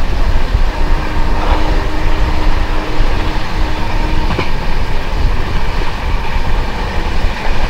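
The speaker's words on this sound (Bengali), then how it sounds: "ওই দিক দিয়ে পাস করে যাচ্ছে ডিব্রুগড় কন্যাকুমারী বিবেক এক্সপ্রেস" The Dibrugarh–Kanyakumari Vivek Superfast Express, an Indian passenger train, roars past close by with loud, steady rumble and wheel clatter, a brief squeal and no talk over it.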